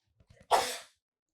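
A single sharp human sneeze bursts out, close and clear, after a few faint short breaths and catches. The room is otherwise quiet.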